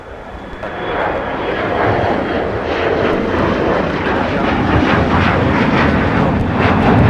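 An aircraft at Minneapolis St. Paul International Airport on a winter day, with a loud, rising engine roar that swells and holds steady close by. No voices are heard over it.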